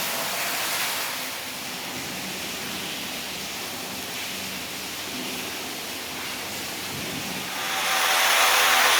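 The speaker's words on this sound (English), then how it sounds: "There's a lot of water coming out the top up there today." Water falls steadily from above inside Cueva Hoyuca, a cave in the Four Valleys System, making a broad, constant hiss. The rush swells louder over the last second or so.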